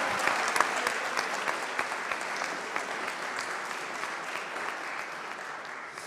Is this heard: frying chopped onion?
no